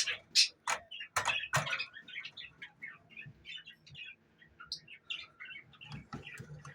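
Rainbow budgerigars chirp and squawk in a busy bird room: several sharp loud calls at the start, then continuous overlapping twittering at close range, with someone talking now and then beneath.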